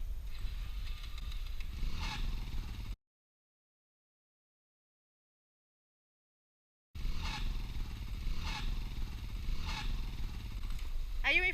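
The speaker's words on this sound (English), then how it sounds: "250 4-strokes struggling in that really soft sand." A 250cc four-stroke dirt bike engine labours in very soft sand, a steady, strained engine drone with rhythmic surges, heard close in two stretches separated by a few seconds of silence.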